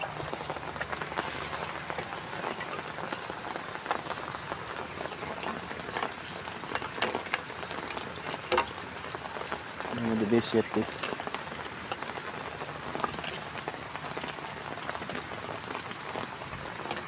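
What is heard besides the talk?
rain falling on a rooftop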